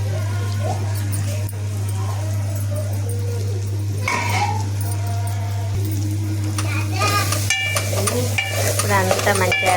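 Tamarind, raw onion and tomatoes sizzle and get stirred together in a pan for bitter gourd pulusu, a steady frying hiss under a constant low hum, with a dog barking and voices in the background.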